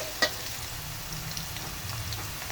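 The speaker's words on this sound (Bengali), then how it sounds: "একটু লাল লাল করে ভেজে নিই পেঁয়াজটা" Onion frying in oil for a chicken curry, a steady, close sizzle with light stirring scrapes and a sharp utensil tap near the start.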